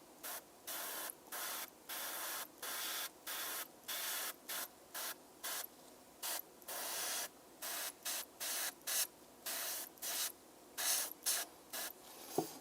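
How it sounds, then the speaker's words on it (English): Airbrush spraying paint onto a Captain America miniature in short, regular bursts of fine hissing air, close and steady, each spray lasting under a second with brief silent gaps between. "I'm going to tighten this airbrush a little bit. I want a smaller shot"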